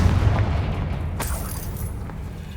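A Confringo fire spell explosion in Hogwarts Legacy erupts as a deep booming blast with a sharp crack partway through, then rumbles and fades over a couple of seconds.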